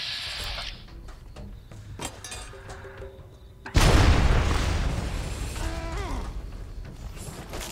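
A plasma grenade in Fallout New Vegas bursts with a sudden loud blast midway, leaving a long crackling, fizzing tail that fades slowly; quieter mechanical game sounds come before it.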